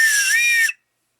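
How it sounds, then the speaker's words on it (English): A small emergency whistle, blown lightly, gives one shrill, steady tone of under a second that cuts off sharply, close and loud with nothing else around it. "You do have this whistle"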